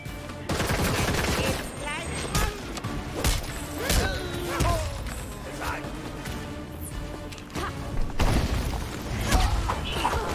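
Video-game gunfire from Gotham Knights, with loud, close bursts of rapid shots and heavy thuds recurring in clusters across the clip, mixed with impacts and effects.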